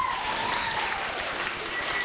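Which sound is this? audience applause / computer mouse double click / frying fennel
audience applause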